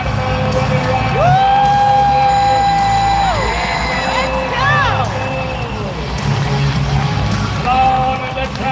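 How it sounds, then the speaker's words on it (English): A rodeo crowd at the Fort Worth Stock Show & Rodeo roars after a bull ride, a loud, sustained wall of cheering with whoops and shrill whistling tones running through the whole stretch. "and the crowd goes wild"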